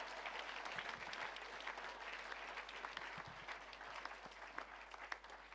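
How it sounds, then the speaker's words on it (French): A church congregation gives sustained, dense applause to the Lord, a steady roar of many hands clapping together, fairly distant and even, with faint low hum beneath. "Est-ce qu'on peut applaudir le Seigneur pour cela?"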